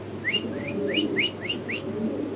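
White Spanish pigeons coo close by in a run of about six soft rising whistled calls, evenly spaced over a low background murmur.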